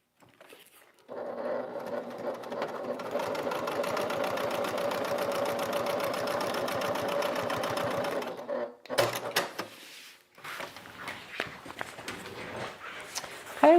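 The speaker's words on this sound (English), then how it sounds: "come down and back stitch at the bottom." A sewing machine stitches loops for a bag, running in a steady, fast mechanical chatter for several seconds. The machine then stops and starts in short bursts while back stitching, with light handling noise between runs.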